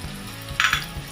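Chopped garlic drops into a hot pan and sizzles in a short burst of bright frying, brief and close, over a low steady kitchen background.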